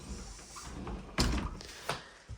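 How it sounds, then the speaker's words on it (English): A pocket door slides along its track into the wall with a rolling rumble and a soft thump, then a second bump shortly after, close by. "And this has got a pocket door."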